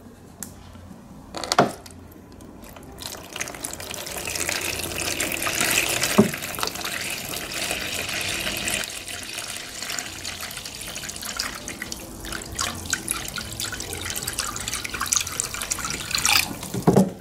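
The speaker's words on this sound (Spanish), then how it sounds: "Comenzaré a echar el agua." Water runs steadily from a tap or container onto a pipe repair made of glue and cotton, a continuous close splashing and trickling stream with a few sharper drips, with no talking.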